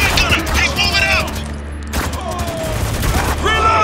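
Shotgun gunfire in Spec Ops: The Line, loud sharp blasts mixed with rapid battle firing and clanking mechanisms, close and intense while soldiers shout over it.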